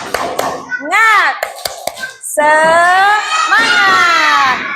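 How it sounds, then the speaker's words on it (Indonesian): Children at an Indonesian Islamic primary school perform the tepuk semangat clapping chant, sharp rhythmic hand claps alternating with loud sung and shouted children's voices in a classroom. "Tepuk semangat."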